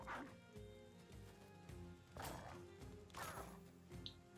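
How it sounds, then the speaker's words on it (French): A dog barking in the medieval strategy video game Battle Brothers, several sharp barks and yips spread over a few seconds against a low game soundscape with thuds, fairly quiet and without speech. "Voilà, c'est le chien."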